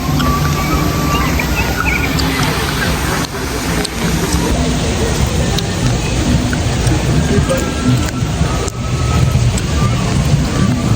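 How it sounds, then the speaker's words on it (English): Heavy rain pours down at Disney's Animal Kingdom, a dense, steady hiss of drops pattering on surfaces close by, with faint distant rumbles mixed in and no break throughout. "I was hoping the rain would hold off a little while longer, but it's here."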